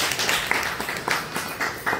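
A small audience at a business talk claps, sparse individual claps at an uneven rhythm, fairly faint and close, with no speech over them.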